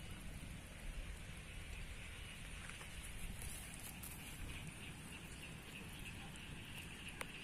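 Heavy rain pours down outdoors over rice paddies, a steady, dense hiss filling the whole clip at constant loudness, with occasional faint clicks of drops and no voices.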